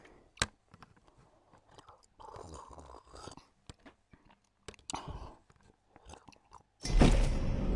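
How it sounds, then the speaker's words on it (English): Loud crunching bursts in The Walking Dead VR video game, sharp chewing-like crackles scattered across the clip, growing into a dense, loud crunch near the end. "really loud crunching."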